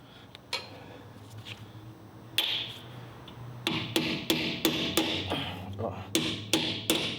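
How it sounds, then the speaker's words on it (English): Sharp metal hammer strikes on the lower control arm of a 2002–06 Toyota Camry during replacement, a few scattered blows at first, then a quick, regular series of loud ringing hits close by, with brief talk in between. "so I'll hammer it out"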